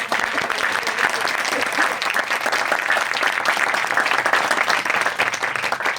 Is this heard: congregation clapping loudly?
yes